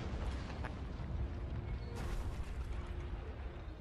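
A video-game explosion destroying an enemy emplacement in Resistance on PlayStation Vita: a continuous low, rumbling blast roar with a sharper burst near the middle, steady and dense throughout, with no talking.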